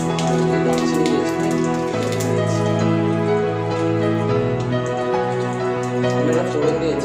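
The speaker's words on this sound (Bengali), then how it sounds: "তেজপাতা দেবো, গোটা জিরে, ফোড়ন দিয়ে নিচ্ছি আমরা।" Bay leaf, whole cumin and cinnamon sizzle in hot oil for a dhaba-style chicken, a dense continuous crackle like rain with a humming tone underneath.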